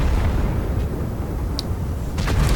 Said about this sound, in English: There's that artillery